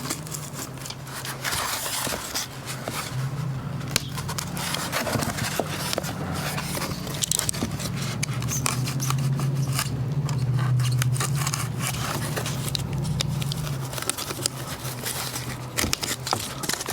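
Scissors or a blade cutting a slot through insulation in a vintage truck camper under restoration, with continuous close snipping and scraping for the whole stretch and no talking.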